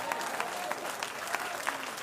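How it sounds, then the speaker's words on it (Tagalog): A church congregation claps together during worship, a dense, steady patter of many hands sustained throughout with a few sharper accents, moderately loud and close. "Kung pumalakpak kayo, palakpak para sa Diyos."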